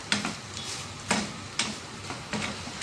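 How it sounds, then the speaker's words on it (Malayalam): Grated coconut and curry leaves frying in a pan, a soft sizzle punctuated by four regular scraping stirs of a spoon, close and alone without talk. "ഇതെല്ലാം കൂടി നമുക്ക് വറുത്തെടുക്കാം."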